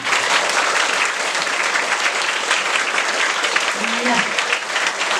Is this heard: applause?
yes